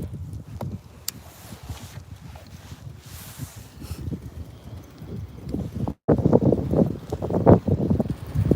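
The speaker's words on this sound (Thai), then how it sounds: "ลมแรงค่ะลมแรง" Strong wind gusting at an outdoor viewpoint on a cold afternoon below ten degrees, buffeting the microphone in loud, rough rumbling bursts that grow heavier after a brief dropout midway.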